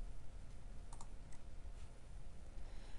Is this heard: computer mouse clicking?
yes